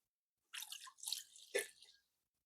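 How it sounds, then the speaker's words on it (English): Chamomile herbal drink poured quickly through a cloth strainer, giving a close, wet splashing pour with dripping that runs about a second and a half, then stops. "I'm going to pour it quickly so it doesn't spill from the sides."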